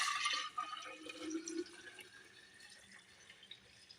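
Cashew milk pours briefly into a glass jar, a soft splashing fill that tapers into faint trickles and drips.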